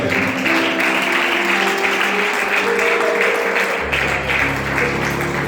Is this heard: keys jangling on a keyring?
no